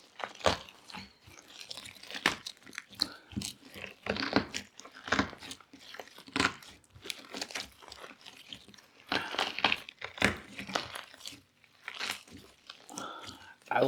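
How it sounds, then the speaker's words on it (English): Cheetos Puffs worked into slime by hand give off dense, irregular crunches and crackles, close and fairly loud, in bursts throughout. "Actually, the crunches are pretty freaking cool."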